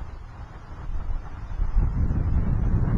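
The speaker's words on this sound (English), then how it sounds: "It's real windy out here" Gusts of wind buffet the microphone with deep, rumbling roars that grow stronger partway through, with no voices.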